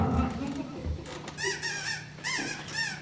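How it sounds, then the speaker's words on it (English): A rubber duck toy is squeezed and blown hard, giving several high, wavering squeaks in short bursts over a low background rumble. "It was a squeaking duck."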